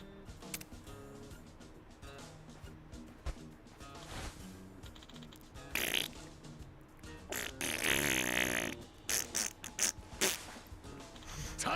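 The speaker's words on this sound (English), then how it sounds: "I hoped all those farts picked up" Repeated fart sounds in a Yakuza 7 video game scene, sputtering bursts layered over game music and effects, growing louder and denser toward the end.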